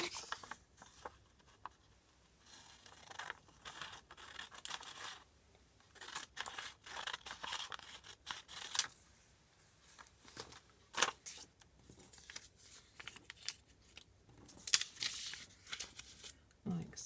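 Scissors snip through half a sheet of A4 paper, cutting it into pieces with irregular crisp snips and paper rustling, close and fairly quiet, while a person talks now and then.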